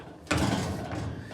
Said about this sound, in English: If we open up the dryer